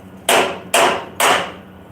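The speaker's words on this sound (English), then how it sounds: "Now I for sure need the hammer." Three loud, sharp hammer blows on metal bodywork of a 1969 El Camino, evenly spaced about half a second apart, each ringing briefly before the next strike, with no talking.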